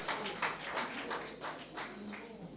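Applause from an audience at a golf charity tournament cocktail evening, a short patch of scattered, fairly faint hand clapping with an uneven rhythm and no talk over it.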